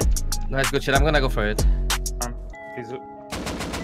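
Sharp gunshot bursts from an AK rifle in a shooter video game crack out in quick scattered clusters, mostly under excited close-up talk from players.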